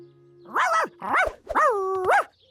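A cartoon dog stuck up a tree gives three or four close, loud, tonal barks in quick succession, cleanly voiced with a slightly howling, sing-song pitch.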